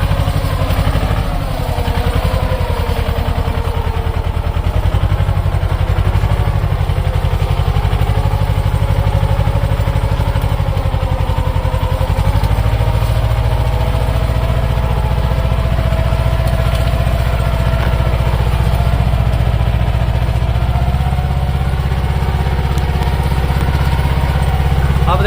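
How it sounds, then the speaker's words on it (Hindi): A Mahindra Yuvo 225 tractor engine runs steadily in third gear in a field, a loud continuous low rumble with clattering mechanical texture that holds throughout. "तो भाइयों ये तो तीसरे किलो में चल रहा ट्रैक्टर।"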